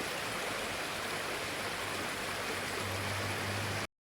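A river flowing through forest near Palakkad gives a steady, dense rush of water, even and close, running without a break until it cuts off abruptly near the end.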